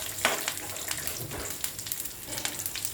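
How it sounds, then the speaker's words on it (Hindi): Peanuts sauté in a pan over a gas flame, crackling and sizzling steadily with scattered small pops and light rattling as the nuts shift. "अब ये मूंगफली डालने के बाद मैं गैस को शुरू कर दूँगी"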